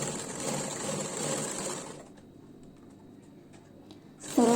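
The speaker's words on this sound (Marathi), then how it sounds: "सरळ कपड्यावरती ठेवून आपल्याला शिलाई करायची" A sewing machine stitches a blouse in a dense, steady whirring run, then stops, leaving faint clicks and handling before the motor starts again loudly.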